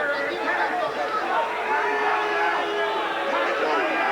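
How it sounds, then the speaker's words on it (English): Spectators at a 1996 Extreme Fighting event murmur and call out in a steady, continuous crowd babble, with no single voice standing out. "Crowd getting on them a bit"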